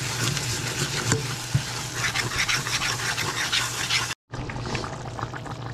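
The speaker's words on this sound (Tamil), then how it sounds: "மசாலா தக்காளி எல்லாம் போட்டு கொதிக்குது" A steady bubbling sizzle from masala curry with tomato boiling in a pot on the stove, continuous and close, with a brief gap near the end.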